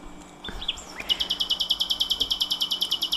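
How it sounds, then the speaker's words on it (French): A European robin sings alone in winter: a few thin varied notes, then a rapid run of high repeated chirps, clear against a quiet background. "J'ai souvent filmé un chant de rouge-gorge en hiver"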